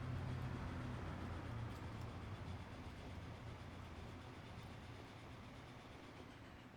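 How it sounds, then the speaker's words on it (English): A train rolls along rails in the Transport Fever game, a continuous low rumble with a brief clatter at the start that eases into a steady, slowly fading drone, no talking. "Look how fast it's catching up to that train in front of it."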